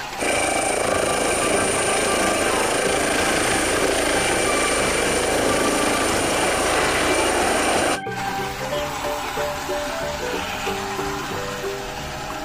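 A helicopter gives off a loud, steady whirring drone with a constant engine whine for about eight seconds. The sound then cuts off abruptly and light music takes over.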